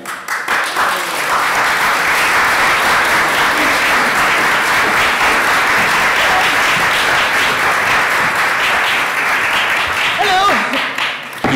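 Sustained applause from a press conference audience at the Guardians of the Galaxy UK event, a dense, even wash of clapping lasting over ten seconds with faint voices beneath.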